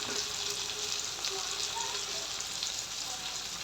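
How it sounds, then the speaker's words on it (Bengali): Potatoes for aloo dum fry in a pan, giving a dense, even hiss of sizzling oil that holds steady throughout at close range. "দেখেন এখন আমি আলুটাকে এইভাবে নাড়াচাড়া করব।"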